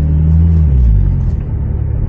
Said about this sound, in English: Car's been warmed up for about 5 minutes now, so I think we can start to drive it.